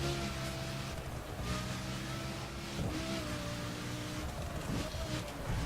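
Lamborghini Gallardo engine in the racing game The Crew, droning steadily and loudly throughout, with the revs shifting a few times as the car rounds turns on a two-lane road.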